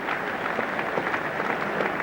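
A cricket crowd at Lord's applauds Randall and Lever during a one-day final, a dense, distant wash of clapping that holds steady throughout.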